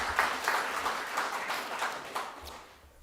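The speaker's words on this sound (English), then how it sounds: "bring your hands together and clap the referees" An audience at a bush club awards night applauds the referees, a dense moderate patter of many hands clapping that stays steady, then tapers slightly toward the end.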